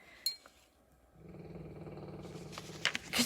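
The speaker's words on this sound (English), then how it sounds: "Could you guys hear the dog snoring?" Dog snoring nearby indoors in a quiet room, a low rumbling drone that rises and steadies, with a few faint clicks and rustles around it.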